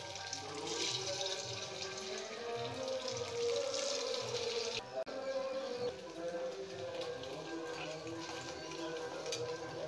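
Paneer pieces frying in hot oil for a vegetarian potato-paneer dish, giving a steady, dense sizzle and crackle that runs throughout at moderate loudness, with a brief dip midway.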